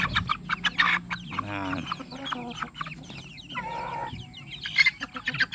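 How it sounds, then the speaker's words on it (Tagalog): Basilan native chicks, a crossbreed, peep and cluck near and far in a pen, with soft trilling calls and scattered chirps throughout, while a person speaks briefly. "Maaamo itong mga sisiw natin."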